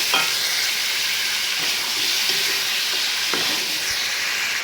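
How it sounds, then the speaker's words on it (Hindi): Chicken frying with cumin and bay leaves over high heat, a loud, dense, steady sizzle and hiss with occasional stirring scrapes, close and continuous, without talk. "अब इसको इस ज़ीरे और तेज़पात की स्मेल के साथ खूब हमने करना है फ्राई।"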